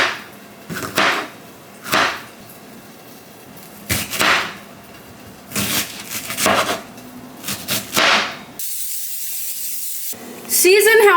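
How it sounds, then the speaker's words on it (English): Knife chopping vegetables on a cutting board for a weight-loss breakfast, heard as separate bursts of slicing and thudding cuts with pauses between them and a brief spray near the end. "I'm gonna cut up some vegetables"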